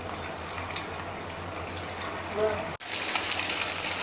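Fish deep frying in oil, a steady hissing sizzle with bubbling crackle, close and even throughout, briefly cut off by a sharp dropout partway through.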